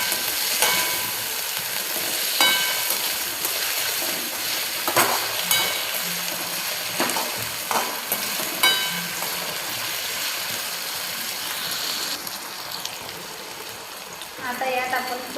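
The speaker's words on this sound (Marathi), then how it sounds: "मी जे कापून घेतलेल्या बटाट्याच्या फोडी होत्या त्या मी यात टाकून घेते आणि छान असं मिक्स करून घ्यायचं" Cut potato pieces fry in a hot pan for sabudana khichdi, giving a loud steady sizzle with scraping stirs and clinks of a spoon throughout, close up and without talk.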